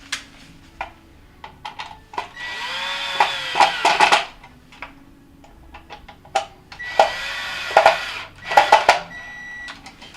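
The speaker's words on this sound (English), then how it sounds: "I'm going to go ahead and tighten the 2 screws down." Two screws being driven tight on a Whirlpool refrigerator's main power board cover, heard as bursts of whirring power-driver spin mixed with sharp clicks and taps, two longer runs separated by a pause.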